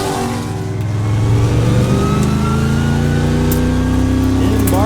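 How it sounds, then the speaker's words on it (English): A Trans Am series race car with transmission trouble at Sonoma drones past with a loud, sustained engine note, its pitch rising steadily as it holds a strained, uneven tone. "Tim Barber seems to have done something to his transmission, going slowly."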